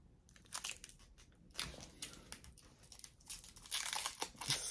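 A TV remote being pulled from crinkly plastic packaging, close and quiet bursts of crackling and rustling that build toward the end, with no talking.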